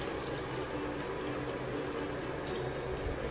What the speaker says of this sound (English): We are adding some water to it